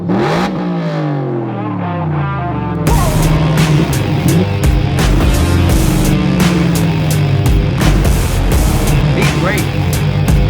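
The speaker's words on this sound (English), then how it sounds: "we must say our farewell with one last rev under the tunnel" A Coyote-swapped Shelby Daytona, a 600 hp V8, revs hard inside a tunnel, its booming engine climbing and falling through repeated loud throttle blips with strong echo, after a brief quieter idle at the start.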